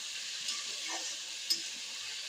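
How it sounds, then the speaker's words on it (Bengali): Taro pieces fry in a pan with salt and turmeric, giving a steady, soft sizzle with a faint hiss throughout. A brief stir or clink of a utensil cuts in partway through. "মুখিটা লাল লাল ভাজা হয়ে গেছে"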